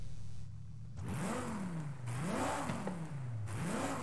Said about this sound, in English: let's hear the V10